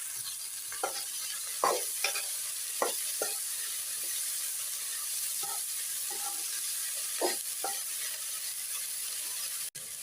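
Moringa flowers frying in a pan with sautéed onions, sizzling steadily while a spatula scrapes and stirs in repeated distinct strokes, close and with no talk.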